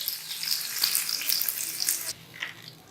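Onion and round red chillies dropped into hot oil for a tadka give a bright, crackling sizzle with popping spatters that eases off into a quieter fizz toward the end.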